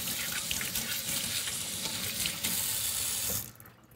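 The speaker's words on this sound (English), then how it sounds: "give my hands a quick wash" Hands rinsed under a running kitchen sink tap, a steady close splashing rush of water that cuts off abruptly near the end.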